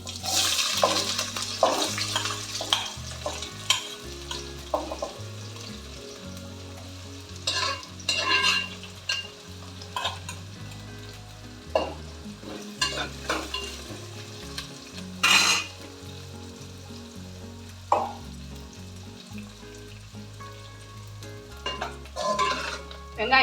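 Whole cinnamon, cloves, cardamom and fennel seeds sauté in hot oil for a mutton curry, giving a steady sizzle with repeated scraping stir strokes of a spoon against the pan, close and loud, with no talking.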